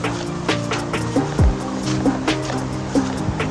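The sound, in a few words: flooded river rushing during heavy rain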